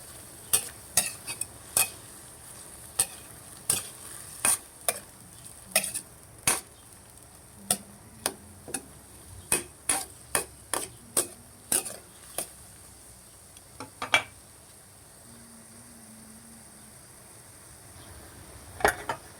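Patola and gizzard stirred in a pan, a steady series of sharp spatula clacks against the metal roughly every half second over a faint, constant sizzle, close and alone without talk.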